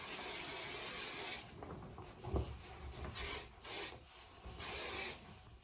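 Hairspray hisses from an aerosol can in several short bursts, the first a long spray and the later ones briefer, close and fairly loud with quiet gaps between them.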